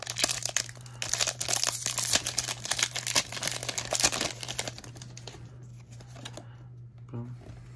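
A Pokémon TCG Vivid Voltage booster pack torn open and its foil wrapper crinkled, with busy close rustling and crackling that fades into quieter handling.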